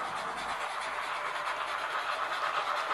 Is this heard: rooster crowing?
no